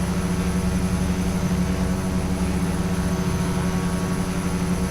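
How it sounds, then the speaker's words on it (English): A Quest Kodiak aircraft engine at full power on its takeoff roll in the X-Plane 11 flight simulator gives a loud, steady, unbroken drone with a low hum underneath and no voices. "Give her full power and let's get down the runway."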